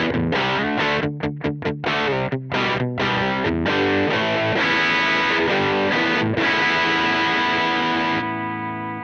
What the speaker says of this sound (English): So this is my Fender Elemental Series Jazzmaster